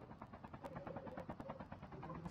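Helicopter in the Call of Duty Mobile video game, a steady rotor and engine drone holding throughout at a moderate distance, with game effects and voices mixed in around it.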